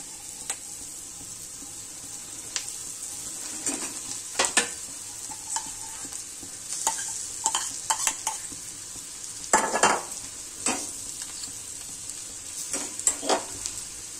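Potatoes fry in a pan with turmeric while being stirred, a steady high sizzle broken by several sharp scraping and clinking strokes of the spoon against the pan, no talking.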